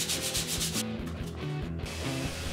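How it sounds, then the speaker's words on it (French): Sandpaper rubs rhythmically across a wooden Rickenbacker 4000-style electric bass body, giving close, repeated back-and-forth strokes with a short pause midway. "C'est parti pour du ponçage."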